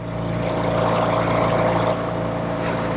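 A 1964 Triumph Thunderbird motorcycle engine idling steadily close by, a smooth even thrum with a constant hum and no talking over it.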